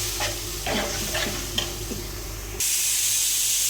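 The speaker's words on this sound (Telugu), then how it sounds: "ఇప్పుడైతే పెరుగు వేస్తున్నా, సరిపడా పెరుగు వేసేయాలి. సిమ్లో పెట్టి ఫ్రై చేయాలి." Biryani masala fries with curd in a pressure cooker, a low sizzle with a few stirring scrapes that bursts into a louder, bright steady hiss as the curd goes in; close, with no talk.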